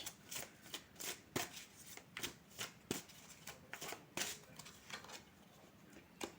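Flower of Life oracle cards being shuffled by hand, a steady run of crisp riffling slaps and flutters at close range with no voices.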